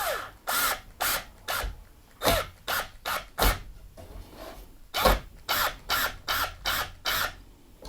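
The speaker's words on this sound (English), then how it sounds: "If I didn't pre-drill this being pine, it would just split." A power drill bores into pine wood in repeated short bursts, about a dozen whirring pulses with brief pauses between them, close up.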